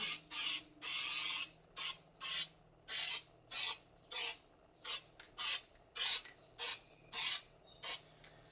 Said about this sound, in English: spray some more of this on the cardboard